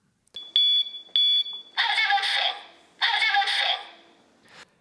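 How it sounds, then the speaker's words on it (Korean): Residential standalone smoke detector sounding its alarm, two short shrill high beeps followed by two longer harsh buzzing blasts, loud and close with no talking. "이 기기는 연기를 감지하면 경보음을 울려 화재 발생 사실을 알려줍니다"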